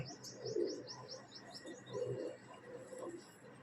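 Pigeons cooing in low, rolling phrases that repeat every second or so, while small birds chirp rapidly and faintly in the background.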